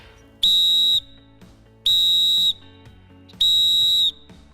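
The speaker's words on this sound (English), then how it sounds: "A whistle never loses its voice" Three loud, shrill whistle blasts used as a signal, each lasting about half a second and separated by short pauses, close and with no talk.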